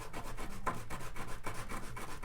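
Sandpaper rubs back and forth across the plastic trim of a Nintendo Wii console in quiet, even strokes, a soft rasping scrape repeating at a steady pace.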